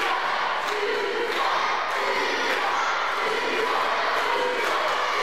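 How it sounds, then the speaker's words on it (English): A wrestling crowd roars steadily throughout a live match with Mike Musso in the ring, a dense wash of cheers and shouts with no breaks. "This crowd spurring Mike Musso on."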